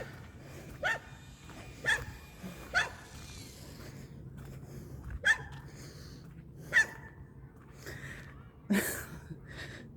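A dog barks outdoors during a nature walk, about seven sharp, separate barks spaced a second or so apart over faint background ambience, fairly close and moderately loud.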